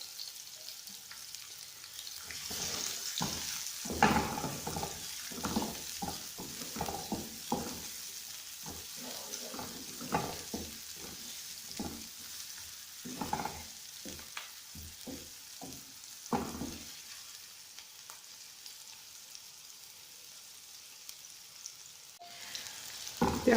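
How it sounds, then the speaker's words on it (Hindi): Finely chopped onions fry in a few spoons of oil in a pan. A steady soft sizzle runs throughout, with frequent crackling pops and occasional stirring, close and without talk. "पैन में डाल दी है और अब इसमें 3 चम्मच ऑयल डालेंगे जिसमें प्याज अच्छे से फ्राई हो जाए"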